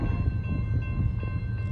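An Amtrak California Zephyr passenger train in Emeryville rolls past nearby, giving a steady low rumble of wheels and cars that holds at an even level throughout, with no voices.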